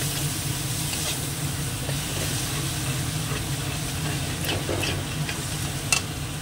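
Water splashed into frying masala in a pan sets off a steady, soft sizzle and hiss, with a few faint clinks of stirring over the top.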